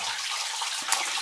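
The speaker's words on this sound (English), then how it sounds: "especially with the water coming down" Water trickles and splashes down inside an old gold mine in the Sierras, a close, steady hissing stream with a brief splashy peak near the end and no voices.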